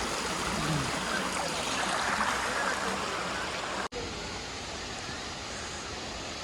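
Waterfall and fast-flowing stream near Kodaikanal rush in a steady, dense roar of water, constant and fairly near, with a brief dropout midway.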